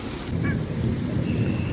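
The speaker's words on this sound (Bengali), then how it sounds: "বলতে বলতে চলে আসলো মুসুলদারে বৃষ্টি" Heavy rain pours down steadily in a village during a storm, a dense, continuous roaring wash close by with no voices.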